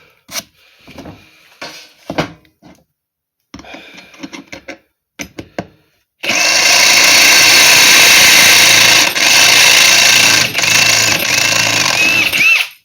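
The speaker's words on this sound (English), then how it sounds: "Drill these other 2 out." Scattered clicks and light handling noises, then a power drill starts up loudly and runs continuously for several seconds with a steady grinding whine.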